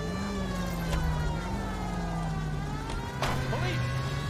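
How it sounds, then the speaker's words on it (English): A police car siren in L.A. Noire wails in a sustained tone over a droning car engine, fairly loud, with a few brief bumps and a voice partly overlapping. "Have the sirens on"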